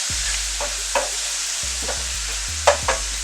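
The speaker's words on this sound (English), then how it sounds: "So I'm just sauteing these up." Chopped vegetables, including broccoli, sautéing in a pan with a steady soft sizzle, broken by a few sharp clinks and scrapes of stirring, heard up close with no talking.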